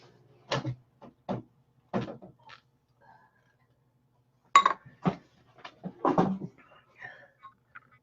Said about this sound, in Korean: 머그컵 채로 전자레인지에 들어갈 겁니다